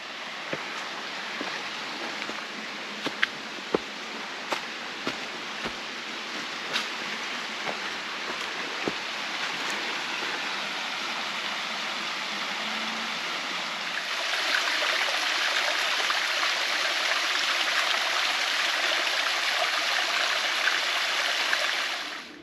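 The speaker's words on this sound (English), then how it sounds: "See the creek running over yonder." Running water rushes steadily from a nearby creek below rhododendrons on a mountain trail, a continuous broadband wash with occasional clicks and rustles, growing slightly louder partway through.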